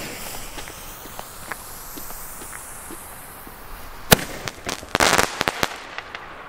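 Albert Neon Clouds fireworks in pink go off outdoors by a lake, a faint crackling hiss that builds into a quick run of sharp pops and bangs near the end.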